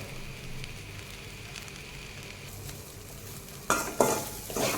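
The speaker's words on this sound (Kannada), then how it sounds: "ಸೊ ಹೆಸರು ಕಾಳು ಆಲ್ರೆಡಿ ಬೆಂದಿರೋದ್ರಿಂದ ಇದನ್ನು ಉಪ್ಪು ಚೆನ್ನಾಗಿ ಹಿಡಿಯೋ ತನಕ ಇದನ್ನು ಎಣ್ಣೆಯಲ್ಲಿ ಸ್ವಲ್ಪ ಫ್ರೈ ಮಾಡಿಕೊಂಡ್ರೆ ಸಾಕಾಗುತ್ತೆ" Cooked green moong dal frying in oil with salt as a side dish, giving a low steady sizzle that turns into louder clattering stirs and scrapes of a spoon in the pan near the end, with no talking.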